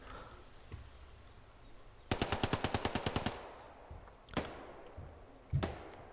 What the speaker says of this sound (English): as MG fire is coming from Brenter